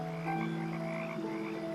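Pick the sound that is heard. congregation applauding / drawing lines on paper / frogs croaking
frogs croaking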